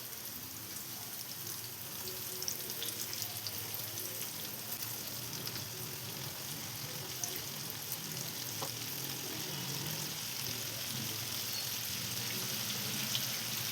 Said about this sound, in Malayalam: നമ്മളൊരു മീഡിയം ഫ്ലെയിമിൽ വെച്ചിട്ട് ഫ്രൈ ചെയ്തെടുത്താൽ മതിയാവും.